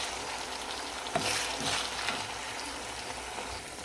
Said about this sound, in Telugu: వేసుకుని ఆ పేస్ట్ వేగేంత వరకు వేపండి